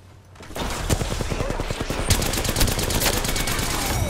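Rapid automatic fire from a Havoc energy rifle in Apex Legends, set to select fire, rings out in a dense, continuous burst of sharp shots, loud and close, with game effects in the background.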